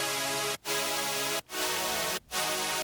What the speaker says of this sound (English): 1 on its own sounds like this.